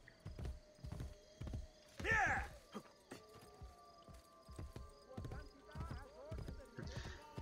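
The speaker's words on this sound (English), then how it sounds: "Okay, fine, I'm just gonna call a horse." A horse in Assassin's Creed: Brotherhood clip-clops along with hoofbeats and lets out two sharp whinnies, one loud and close midway and a softer one near the end.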